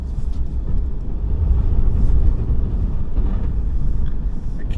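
Ram 5500 Cummins diesel truck plowing snow on a tight driveway, a steady loud engine rumble with heavy low drone running throughout and no talk.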